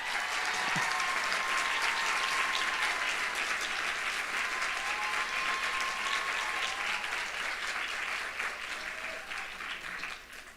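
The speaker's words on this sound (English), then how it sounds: "One more round of applause." Steady, continuous applause from a large audience for an award winner at a university nursing graduation ceremony, even and sustained for around ten seconds at moderate distance.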